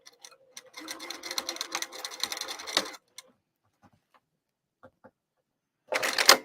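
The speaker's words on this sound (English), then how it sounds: "Rotate my fabric and then stitch down and back tack." Sewing machine stitching fabric with a back tack: a rapid mechanical clatter for a couple of seconds, a pause with a few soft clicks, then a short final burst of stitching.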